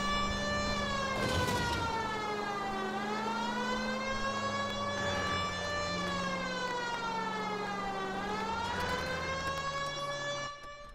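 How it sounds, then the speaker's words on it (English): A police car siren from the L.A. Noire video game wails loud and close, rising and falling in long continuous sweeps over a low engine drone, with no talk. "Turn on them sirens!"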